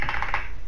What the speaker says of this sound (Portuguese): Tava digitando aqui.